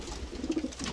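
A pigeon coos briefly and softly in a loft, a single low murmuring call over quiet background hum.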